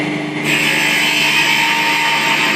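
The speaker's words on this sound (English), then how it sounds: "Hear the wood's complaining now. That's that horrible noise." Wood screeches steadily against the tool as it spins on a lathe while a snowman Christmas ornament is turned. The sound is loud and continuous, and it gets harsher after a brief start.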